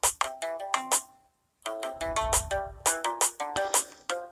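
A phone notification plays as a bright, bouncy run of short chiming tones in quick rhythmic bursts, loud and close, with a brief gap partway through, and no voices.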